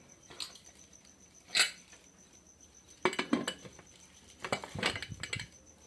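A pressure cooker being closed in a village kitchen: several separate metallic clanks and clinks of the lid and pot, close and fairly loud, with quiet gaps between them and a faint steady background whine.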